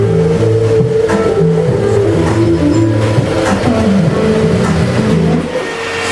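A 2024 Harley-Davidson Road Glide CVO ST fitted with a Tab Performance exhaust rides by with a loud, steady, deep rumble. The engine pitch rises and falls throughout before easing off at the end.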